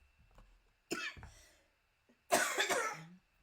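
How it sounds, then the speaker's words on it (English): A woman coughs indoors: two short, close coughs, a pause, then a harsher burst of coughing, with quiet room noise between. "You'd think that would stop me coughing, but no."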